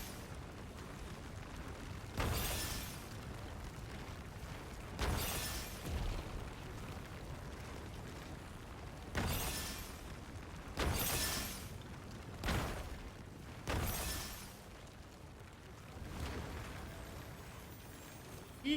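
Explosions from the video game Genshin Impact go off as a series of loud bursts and booms, about seven of them spaced irregularly over a quiet game background with no talk.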